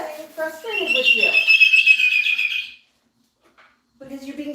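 A pet parrot in a home gives a run of loud, shrill whistling calls and squawks for a couple of seconds, then falls silent before a voice resumes.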